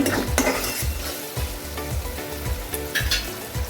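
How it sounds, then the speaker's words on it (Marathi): Tomatoes fry and are stirred in a pan for a Maharashtrian wild vegetable dish, a dense continuous sizzle with repeated scraping stirs and light clinks of the spoon against the pan, close up with no voices. "आता टॅमॅटो छानपैकी फ्राय झालेला आहे"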